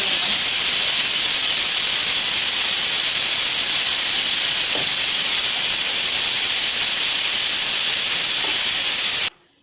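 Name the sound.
pressure cooker releasing steam while cooking pulao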